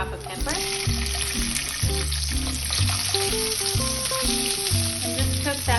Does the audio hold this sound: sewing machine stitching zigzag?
no